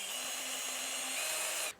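Power drill boring a hole through a metal bus bar for a DIY solar generator, a continuous high whine held steady for nearly two seconds before cutting off abruptly.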